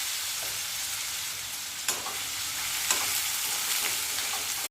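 Raw potato slices fry in hot oil in a kadhai, giving a steady, dense sizzle with a few brief crackles and spatters, and no talking.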